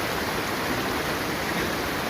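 A small stream of clear, spring-fed water flows steadily at a tourist village in the countryside, giving a continuous, even rush of water with no pauses and no voices.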